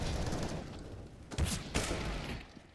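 Pistol shots in a CS:GO match on Overpass, a few sharp cracks rising out of background game noise, with no clear talk.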